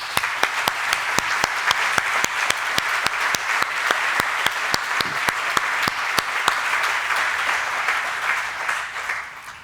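Sustained audience applause for a building construction team at a museum groundbreaking event, a dense wash of many hands with a few sharp louder claps standing out, steady throughout and fading slightly near the end.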